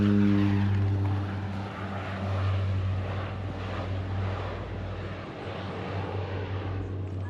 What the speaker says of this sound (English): Kind of makes me sad to see a plane fly away